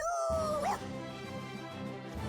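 A dog in the Tales of Vesperia video game gives a single short, sharp yip that slides downward, close and clear, before quieter steady game background sound continues.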